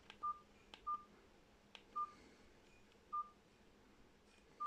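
Short electronic beeps from a Mobiwire C11 flip phone sound at irregular intervals, each a brief high tone, faint and close, with quiet gaps between them.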